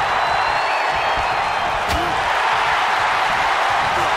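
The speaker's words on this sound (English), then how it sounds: "Listen to this crowd." Wrestling arena crowd roaring at a match between Andre the Giant and One Man Gang, a dense steady wash of cheering and noise, loud and continuous with commentators talking over it.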